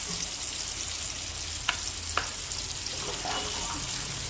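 Tomatoes and turmeric frying in oil for a simple chicken curry, a steady low sizzle running throughout with a couple of sharp utensil taps or stirs partway through, no voices.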